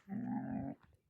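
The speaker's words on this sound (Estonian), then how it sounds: "kas juba hakkab väike urin või?" A young dog gives a brief, low growl lasting under a second, close but fairly quiet, followed by a short soft rustle.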